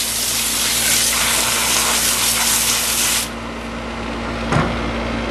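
Hot water from a sewer cleaning jetter sprays at full pressure with a loud, steady hiss that drops abruptly partway through, leaving a quieter rush and a brief splash.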